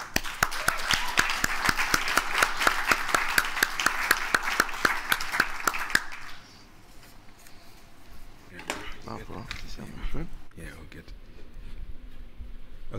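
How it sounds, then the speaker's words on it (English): An audience at a conference talk applauds with dense, steady clapping for about six seconds. The applause then drops to scattered claps, shuffling and murmurs. "Let's make some noise for George Imafidon."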